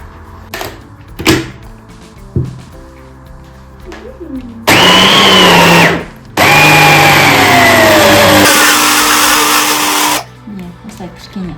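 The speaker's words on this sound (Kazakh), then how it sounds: "Қазір блендерді қосып" A small blender whirs loudly in two sustained runs of about two and four seconds, mixing flour batter for murabaynik. Its pitch shifts as the batter thickens, with quiet handling noises and short knocks before it starts.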